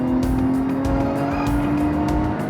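A Lotus Evora GT sports car engine revs hard and steady up close, a loud throaty drone with a sustained tonal whine throughout.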